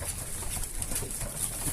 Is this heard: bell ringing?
no